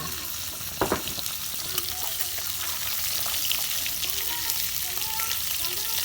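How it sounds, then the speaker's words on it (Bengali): Silver carp fish frying in a pan with aubergine, giving a steady close sizzle with occasional scraping stirs and a sharp clatter near the start. "এই যে দেখেন আবেদার মাছ ভাজা হয়ে গেল"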